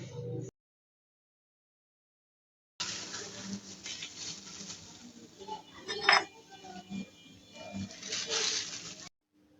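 Spiced potato filling stirred and mashed in a bowl, with soft close scraping, patting and light clinks of a utensil against the dish, broken by a brief silent gap.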